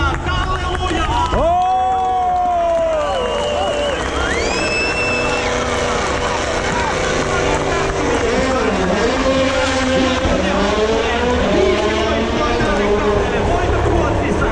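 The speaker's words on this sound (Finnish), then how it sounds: "Kun arvoisa yleisö, kaikki huutaa Kalle Lujaa!" A large rally crowd at a stage of Rally Finland in 2022 shouts and cheers for driver Kalle, a loud, dense roar of many voices that fills the whole stretch with no let-up.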